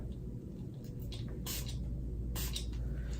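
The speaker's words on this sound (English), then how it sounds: "I'm gonna use some Catrice spray." Two quick hissing sprays from a Catrice makeup setting spray pump bottle, close up, about a second apart over a low steady background hum.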